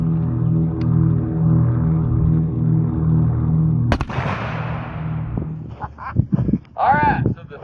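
A single loud 300 Win Mag rifle shot striking a fire hydrant, a sharp crack with a decaying boom following a steady low engine-like hum, then people talking and reacting.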